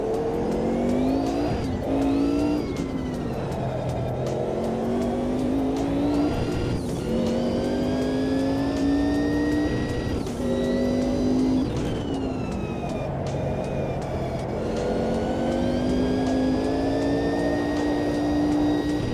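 In a sim racing game, a race car holds a long four-wheel drift, its engine whining and revving loudly and continuously with rising and falling pitch and gear changes, and no voice over it.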